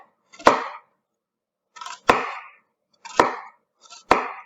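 A knife slices through a vegetable onto a chopping board while the vegetable is cut toward the root, four crisp, evenly spaced cuts, each a sharp knock with a short rasp, close and clear with no talking.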